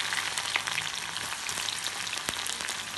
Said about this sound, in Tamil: அதுல இருந்து ஒரு வெங்காயம் எடுத்து இதுல ஃபுல்லா ஃப்ரை பண்ணி எடுத்துருவோம்.